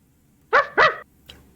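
A human voice imitates a dog, giving two quick, loud yapping barks close to the microphone, followed by a faint short yip after a pause.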